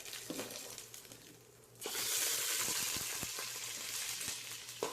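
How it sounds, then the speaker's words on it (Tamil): Bay leaf, cinnamon, cloves and cardamom drop into hot ghee for tempering before ghee rice, bursting into a loud, steady sizzle after a quieter start, with a few crackles and stirring knocks close by. "கொஞ்சமாக பிரியாணி இலை, பட்டை, கிராம்பு, ஏலம் போட்டு தாளிச்சிடுறேன்"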